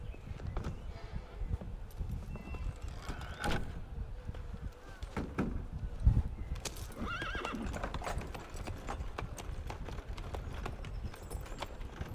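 Horses in a street scene from Assassin's Creed Unity, with clip-clopping hooves running steadily throughout and a whinny rising above them midway, all set against a busy background.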